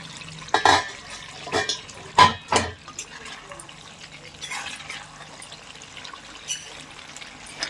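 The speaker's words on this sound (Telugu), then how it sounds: "ముందైతే నీళ్ళు పోస్తున్నానండి." Water splashing into a cooking pot of broad beans, with a few short bursts of pouring and sloshing standing out over a quiet kitchen background, no talking.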